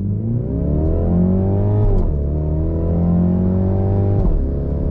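Mini Countryman S pulling away on launch control in sport mode, its engine droning loud and steady from close by, with pitch climbing and dropping at each gearshift, no talking.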